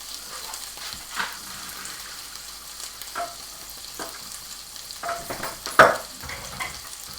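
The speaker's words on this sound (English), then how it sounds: "I'm just going to drain them using my nice masculine pink colander" Cooked potatoes being drained through a pink colander at a kitchen hob, heard as a steady watery hiss and rush with a few soft knocks and clatters, near and fairly quiet.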